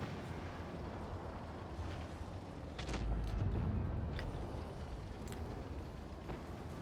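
A deep explosive boom as a tank's ammo rack detonates in World of Tanks Blitz, swelling into a low rumble with crackling bursts, over steady background noise and no speech.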